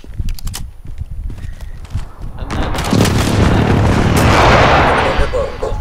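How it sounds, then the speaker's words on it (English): Video game precision airstrike explosions rolling in as a heavy, sustained roaring boom that swells and lingers after a few sharp earlier cracks, loud and close. "friendly precision airstrike on the way"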